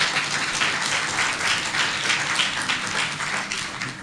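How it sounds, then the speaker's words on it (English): An audience at a city council gathering claps for a future mayor, a sustained, even round of applause filling the whole stretch without a break, close and fairly loud. "let's also give this future mayor his or her first round of applause"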